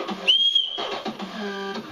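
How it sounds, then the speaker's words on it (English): One short, shrill blast on a small survival kit whistle sounds close and bright, then fades into quiet handling noise. "Whistle."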